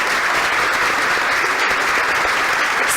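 Audience applause at a human rights award ceremony, dense continuous clapping from a large crowd, loud and steady throughout.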